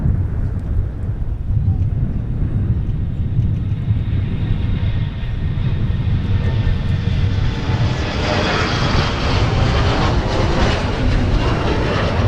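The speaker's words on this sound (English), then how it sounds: "And also the MAX 9, United departing the north side, runway 30 right." A United Boeing 737 MAX 9 takes off from runway 30 right at Minneapolis–St. Paul airport, a loud, steady jet roar with deep rumble that holds throughout and brightens with a rising hiss toward the end.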